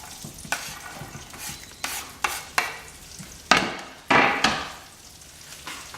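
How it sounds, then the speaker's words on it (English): Onions for French onion soup are tipped into a hot pan and stirred, producing sharp scraping knocks and bursts of sizzle that swell and fade over a low background hiss. "I'm going to tip the onions into the pan."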